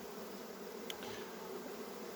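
Honeybees swarming around an open beehive during a summer inspection, a steady dense buzz that stays even throughout at low volume.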